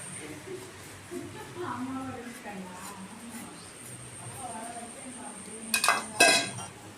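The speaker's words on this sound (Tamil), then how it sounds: "பூஜை பாத்திரம் தேய்க்கிறீங்களா" Metal puja vessels clink and scrape while being scrubbed, with a few sharper clatters near the end and someone talking faintly in the background.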